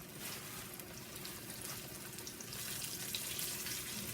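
Catfish pieces frying in hot oil in a black cast-iron skillet, a steady broadband sizzle and crackle that swells slightly louder midway, close and continuous with no talking.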